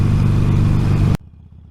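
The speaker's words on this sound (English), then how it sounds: "the wind noise in this helmet is quite loud" Loud wind roars inside a motorcycle helmet while riding at 60, a dense buffeting rush that cuts off sharply to a quieter low rumble after about a second.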